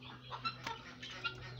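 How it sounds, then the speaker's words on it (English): A flock of about forty guinea fowl calls at feeding time with faint, scattered chirps and clucks over a steady low hum. "I counted them, they are about 40 guinea fowl."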